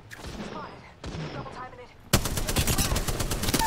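Bursts of gunfire in the battle-royale shooter Apex Legends, a sparse stretch of shots that turns into a dense, loud volley in the last half, with faint voices underneath.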